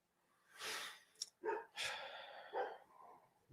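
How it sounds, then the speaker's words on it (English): Dogs bark somewhere at a home, several faint, distant yelps in short irregular bursts over about three seconds, with no talking. "Dogs are barking."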